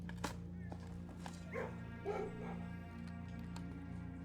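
A dog in the video game Blue Prince gives a few soft yips and barks, faint and brief, over a low steady game hum.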